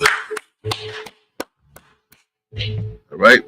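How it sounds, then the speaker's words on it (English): A brotherhood class meeting in a New York hall breaks into short bursts of group hand clapping, separated by pauses, with a few isolated sharp claps and brief voices between bursts. "All right, clap it up."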